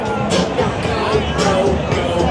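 Dense crowd hubbub at the Toronto Pride street fair on Church Street on a humid evening, a steady wash of overlapping voices and chatter close around, with no single voice standing out.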